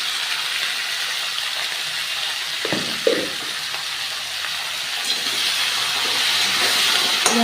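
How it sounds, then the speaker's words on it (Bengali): Vegetables frying in a pan give a loud, steady sizzling hiss throughout, with a couple of soft knocks partway through and a slight rise in the sizzle toward the end. "এগুলো আগে একটু ভেজে নিতে হয়"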